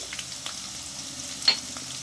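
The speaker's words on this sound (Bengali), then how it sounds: "পেঁয়াজটা 2-3 মিনিট ধরে ভালো করে ভেজেছি।" Onion frying in a pan for a curd-style catla fish dish, giving a soft steady sizzle with a few small pops and spatters.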